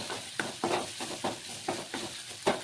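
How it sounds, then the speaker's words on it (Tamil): Ginger garlic paste sautés in sesame oil in a pan, giving a soft sizzle broken by a series of regular scraping stirs, about one every third of a second, fairly faint and close. "இஞ்சி பூண்டு பேஸ்ட்டு போட்டு அதையும் வதக்கிக்கிறோம்."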